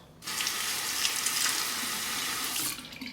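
Running water pours steadily from a faucet for about two and a half seconds as a razor is rinsed during a wet shave with a Sledge Hammer 39C razor, close and fairly loud, then cuts off.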